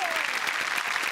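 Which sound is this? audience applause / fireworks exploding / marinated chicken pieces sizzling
audience applause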